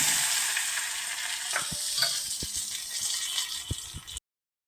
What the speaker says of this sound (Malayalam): കടുക് വറുത്ത് കറിയിലേക്ക് ഒഴിക്കുന്നു.